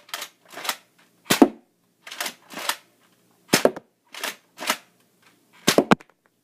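A Nerf Raider CS-35 blaster fires darts one at a time at a slow pace, about nine sharp, close, loud pops spaced unevenly, no talking.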